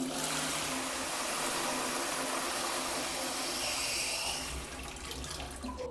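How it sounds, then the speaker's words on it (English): A toilet flushes a set of keys, a loud rushing swirl of water lasting several seconds before draining away, close up and without talk. "Will they flush some guy's keys?"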